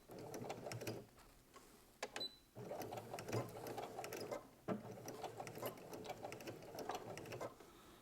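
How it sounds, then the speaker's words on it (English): A sewing machine back stitching a pajama seam, its rapid mechanical whirring running in short bursts with brief pauses and a sharp click between runs, close and clear at a quiet level. "So about right there, and I'm going to back stitch."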